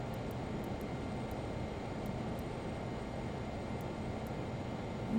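Steady broadband engine roar of a Learjet 35 on final approach in Flight Simulator 2024, a constant cabin drone with a few faint clicks.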